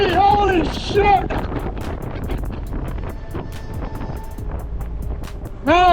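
Heavy wind rumbles against the microphone during a downhill bicycle ride while a person talks loudly over it, the gusting steady and close.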